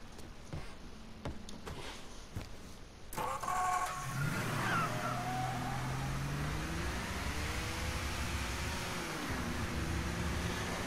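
A car engine in the video game Mafia 3 starts up after a few scraping knocks, then hums steadily and rises and falls in pitch as the car drives and accelerates, with no voices.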